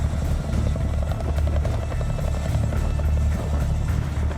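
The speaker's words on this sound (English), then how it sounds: "Few helicopters in history are more iconic and recognizable than the Boeing CH-47 Chinook." A Boeing CH-47 Chinook tandem-rotor heavy-lift helicopter drones loud and close with a continuous deep rotor thudding and engine roar. The sound is steady throughout and there is no talk.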